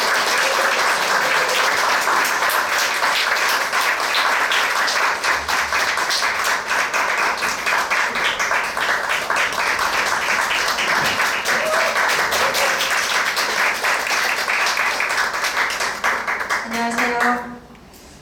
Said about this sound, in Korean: 여러분들이 환하게 또 박수로 맞이해 주시면서 이분을 격려해 주셨으면 좋겠습니다